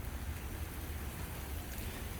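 Steady rain falls over a dense tropical fruit tree planting in Tampa, Florida, a continuous soft hiss with no breaks and no voices.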